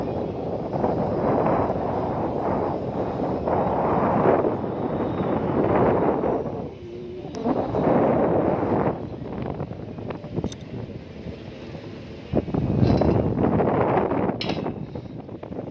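Strong wind roars in gusts high atop a 100-metre SUTT transmission tower, buffeting the microphone loudly with surging and easing waves and short lulls between.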